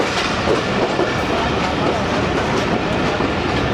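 Awam Express passenger train at the crowded Jhelum station platform in Pakistan, a steady close rumble with rhythmic rail clatter filling the whole stretch, busy crowd noise mixed in.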